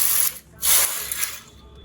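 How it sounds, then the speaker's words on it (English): Knitting machine needles pushed back by hand along the needle bed while machine knitting a set-in pocket, giving two bursts of bright metallic ratcheting clicks, close and fairly loud, with a fainter click after them and no talking. "first of all push these needles on the opposite side of the carriage"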